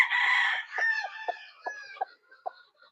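A Tornado Hatch gamecock rooster crows once, loud and close, with the call trailing off into a string of short clucks before silence.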